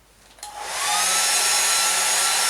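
A hair dryer in the film Alien vs Predator switches on and swells into a loud, steady whooshing roar that holds without a break, with no speech over it.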